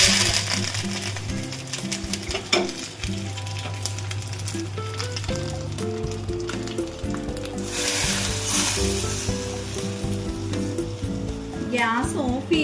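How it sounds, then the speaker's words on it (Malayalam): A pot of rasakalan curry, tempered with mustard seed, fenugreek, chili and dried curry leaves, sizzles steadily in a clay pot, a continuous hiss under background music. "ഗ്യാസ് ഓഫ് ചെയ്തിട്ടും ഇത് തിളച്ചുകൊണ്ടിരിക്കുന്നുണ്ട്. മൺചട്ടി ആയതുകൊണ്ടാണ്."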